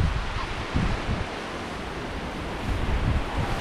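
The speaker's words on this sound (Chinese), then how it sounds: "这样下雨的天气，又是刮风又是下雨" Wind and rain sweep through a rural peach orchard in Xingtang County, Hebei, as a dense, steady roar with gusty swells and buffeting on the microphone, loud and close throughout, with no voices.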